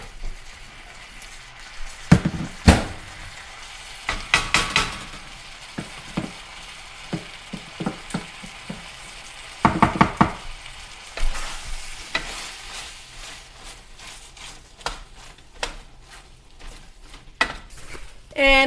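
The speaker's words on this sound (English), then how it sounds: "you just keep stirring it until your cream of mushroom soup starts to bubble" Cream of mushroom soup with sausage and broccoli cooking in a pan, heard as scraping stirring clatter and spoon knocks over a low sizzle and soft bubbling, steady and close.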